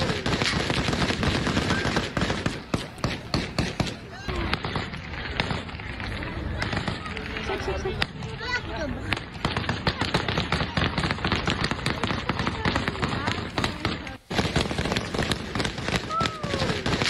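Bursts of gunfire from Taliban fighters outside Kabul airport crackle and rattle almost continuously, loud and dense, with voices and crowd noise mixed throughout.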